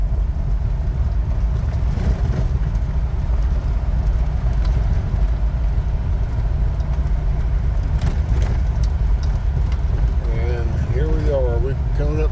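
A Jeep Wrangler drives a curvy national forest trail road, with a steady, loud engine and road rumble throughout and a voice now and then over the drone.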